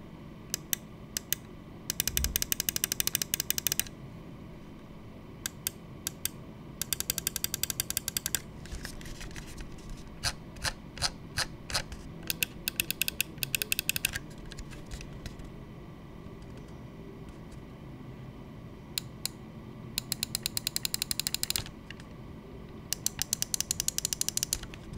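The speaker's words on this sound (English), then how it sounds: "let's go ahead and drop a sound test on how the clicks perform and how they sound" Lamzu Atlantis OG V2 4K gaming mouse buttons clicked close up in bursts. Some are fast rattling runs of many clicks and others are sparse single taps, all crisp and sharp over a quiet background with no speech.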